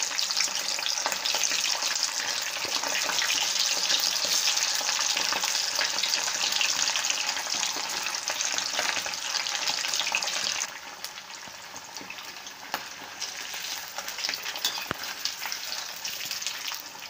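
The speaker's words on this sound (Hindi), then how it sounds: "अब हम आलू फ्राई कर लेंगे।" Potatoes fry in hot cooking oil in a kadhai with a dense, steady sizzle that carries on throughout and drops a little in level partway through. No one speaks.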